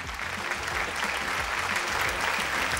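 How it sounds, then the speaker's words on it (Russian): A studio audience applauds for Vasya Utkin with steady, dense, close clapping that holds at full strength throughout, with no speech over it. "Вася Уткин, ваши аплодисменты."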